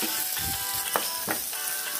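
Spice masala fries in oil for Kerala-style karimeen pollichathu, a steady close sizzle with a few soft scraping stirs breaking through at intervals.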